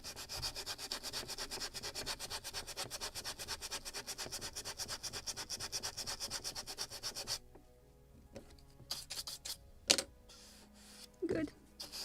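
A heavy-grade Scotch-Brite pad rubs against the wood of a model gunboat kit in quick, steady back-and-forth strokes, then stops, followed by scattered clicks and handling knocks.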